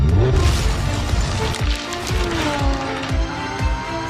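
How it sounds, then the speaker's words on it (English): Lamborghini V10 engine noise from a Countach teaser, a steady loud mechanical drone with a rising tone and repeated low thumps. "why else would they put a V10 noise inside the background of the video?"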